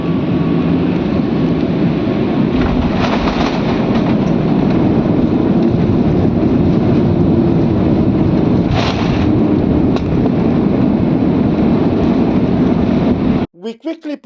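Broadband roar of an Ethiopian Airlines airliner touching down on the runway at Cape Town, heard from inside the cabin, loud and steady with a few rumbling bumps, ending abruptly as a voice begins.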